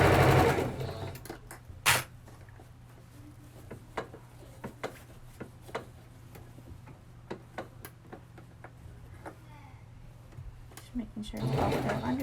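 A domestic sewing machine stitching fabric for a Little Mermaid Ariel costume, with scattered ticking clicks as the needle is set down and the work is pivoted, heard close and fairly quiet, with a person talking at the start and end.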